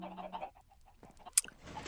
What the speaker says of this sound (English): There's a bunch of chickens here.